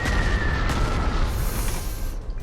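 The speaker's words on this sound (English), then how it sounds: "Let's go over here and just bomb this." A strategic bomber bombs a target in the wartime strategy game Panzer Corps 2, producing a dense, loud rumbling blast that rolls continuously for about two and a half seconds.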